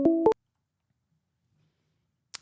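A telephone rings with a short, loud two-pulse electronic tone right at the start, followed by near silence and a faint click at the very end.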